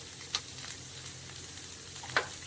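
Green chillies, curry leaves and ginger-garlic paste sautéing in a pan with softened onions for anchovy fry, giving a soft steady sizzle with a couple of brief stirring scrapes, no voices.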